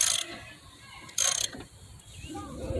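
Quick ratcheting clicks come from a hand ratchet tightening the axle nut on a bicycle wheel during a tire change, two short close bursts with quieter handling sounds between.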